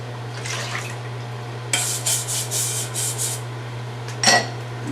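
A rice cooker pot gets scrubbed inside with water in bursts of brisk, wet swishing and scraping, several close strokes followed by a brief clatter, over a steady low hum.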